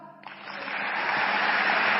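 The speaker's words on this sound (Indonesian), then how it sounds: "Aplausnya Pak." Seminar audience breaking into applause after a brief quiet moment, building quickly into a steady, full wash of clapping that holds to the end.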